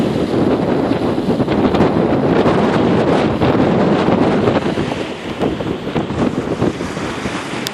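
Strong wind buffets the microphone on a lakeside pier, a loud continuous roar with surf and water noise underneath and no voices.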